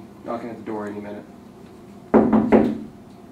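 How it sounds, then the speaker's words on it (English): Three quick, sharp knocks on a door ring out close by, following a short stretch of a voice speaking indoors. "He'll be knocking at the door any minute."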